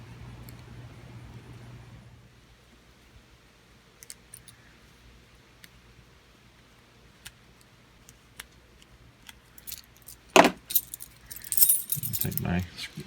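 Keys on a ring rattle faintly with scattered light ticks and handling sounds, then jangle louder in a short burst near the end, close by.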